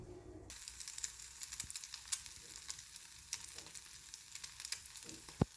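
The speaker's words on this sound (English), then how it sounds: "Can you hear the sizzle? It means that it was hot enough." French toast sizzles in a hot pan with a steady close hiss, studded with sharp crackles and pops, and no voices.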